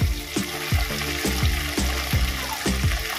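Bengali spices stirred and frying in a pan for potol chingri (pointed gourd with prawns), a steady close sizzle broken by regular scraping strokes of the spatula, about eight stirs in three seconds, with no talk.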